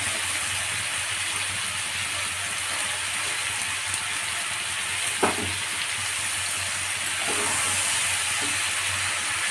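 Cabbage fries in a pan with a steady close sizzle and crackle, broken by a few soft knocks of stirring, with no one speaking.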